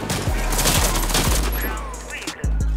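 Rapid machine gun fire from a KAC PDW in the online shooter Warface, a loud close burst of rattling shots followed by a few separate cracks.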